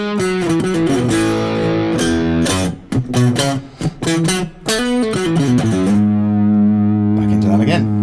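Distorted electric guitar plays a chugging riff with short choppy breaks in the middle, then settles into sustained notes.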